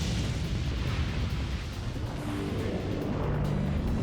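Fire-based Explosion magic spell cast in the video game The Legend of Dragoon, heard as a loud, sustained rumbling blast with dense low roar filling the whole moment, no speech over it.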